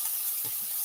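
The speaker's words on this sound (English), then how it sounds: "I'm going to have to wait till this saute down a little bit" Hamburger Helper sautéing in a pan makes a steady, close hiss of sizzling with a couple of soft low bumps from stirring, over a brief stretch with no talking.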